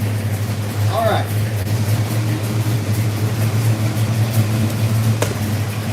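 A Ford Mustang Foxbody engine idles with header leaks, a steady low rumble running throughout at close range, with a person talking over it.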